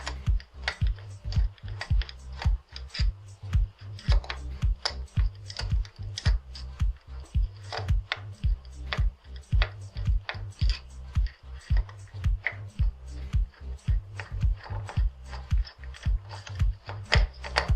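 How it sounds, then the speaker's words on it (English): Rapid clicking and ratcheting from a screwdriver loosening the four mounting screws, two at the top and two at the bottom, on a flame- and explosion-proof IPX2 current-to-pressure transducer module. The clicks come as dense, repeated ticks throughout, close and fairly loud, with no talking. "with the same screwdriver, locate the 4 mounting screws, 2 on the top and 2 on the bottom"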